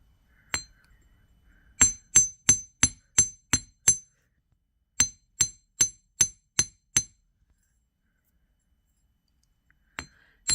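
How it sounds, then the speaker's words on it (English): A chasing hammer strikes metal jewelry wire in sharp, ringing metallic taps, one lone hit followed by two quick runs of about eight evenly spaced blows each, then a pause and a final pair of taps, all close and clear. "So here's our chasing hammer. And now we're just going to pound on these a little bit."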